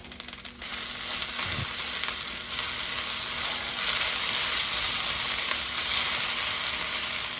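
Brown rice and vegetables sizzle and fry in a hot pan on the stove, a steady close crackling hiss that holds evenly throughout with a faint stir at the start.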